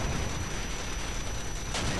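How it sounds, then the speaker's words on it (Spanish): Rockets and gunfire from a Call of Duty zombie mode battle make a dense, continuous roar of rumbling blasts and crackling shots, with a sharper burst near the end and no voices over it. "Ahora tiran cohetes, metracohetes."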